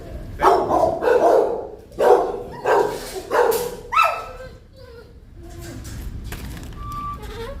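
Dogs at an animal control shelter barking in a string of loud, close bursts, followed by quieter whimpers and yips, with people talking in the background.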